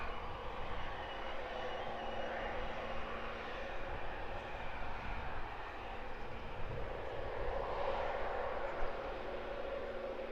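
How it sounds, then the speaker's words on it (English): Jet airliners slowing after landing and taxiing toward their stands at Luton airport, heard as a steady, fairly distant broadband engine roar with a faint hum, swelling slightly near the end, with no talking. "those lovely turns off the runway as the planes decelerate and head towards their stand"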